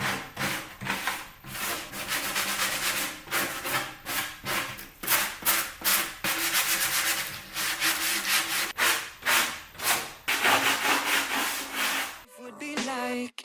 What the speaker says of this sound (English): I'm basically just sanding down the edges.